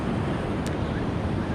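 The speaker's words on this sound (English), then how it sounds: "I hope you're loving this ocean action in the background" Ocean surf rolling onto a beach, a steady broadband wash with wind rumble on the microphone, continuous and fairly close with no distinct breaks between waves.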